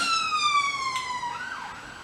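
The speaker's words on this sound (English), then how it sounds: "police car going past" A police car siren wails steadily as the vehicle passes close by, its tone sliding downward toward the end as it moves away, with no talk over it.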